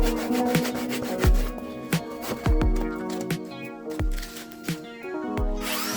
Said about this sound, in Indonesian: Ujung atasnya saya potong agar datar dan rapi.